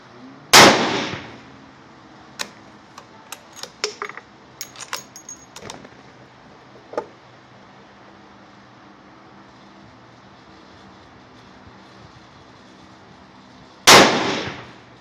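Two loud, sharp .350 Legend rifle shots crack at an outdoor range, spaced well apart, with faint clinks and handling noises in the quiet between them.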